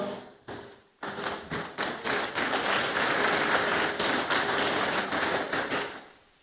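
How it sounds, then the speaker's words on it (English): A convention audience at a Kenyan secondary school heads' annual gathering breaks into applause, beginning with a few scattered claps and swelling into steady, dense clapping that fills the hall for several seconds before thinning out. "a round of applause to KCB Foundation"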